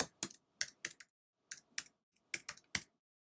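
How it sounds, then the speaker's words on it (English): Someone types an email address on a computer keyboard: a quick, quiet burst of roughly a dozen crisp close key clicks in three short groups with brief pauses between them. "we'll just quickly type that in"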